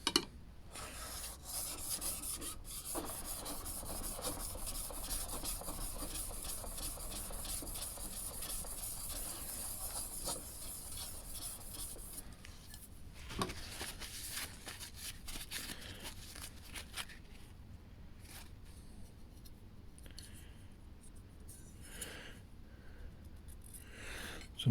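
A No. 6 hand plane blade is rubbed by hand on a DMT DuoSharp diamond whetstone in rapid back-and-forth strokes, a close, dense, gritty rasp that runs steadily and then grows sparser and quieter toward the end.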